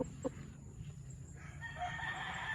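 A rooster crows nearby on a farm where fighting cocks are being handled, its drawn-out call standing alone over a low steady background hum with no talking.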